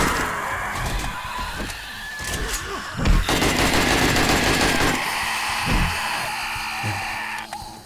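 Rapid machine-gun fire in the zombie survival game 7 Days to Die, a dense stretch of fast repeated shots rising to a loud, sustained burst in the middle and then carrying on steadily with other game noise behind it.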